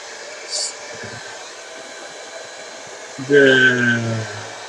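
A hair dryer blows a steady, even hiss over an Academy Merkava Mk III tank model kit being worked with oils. A voice briefly speaks near the end.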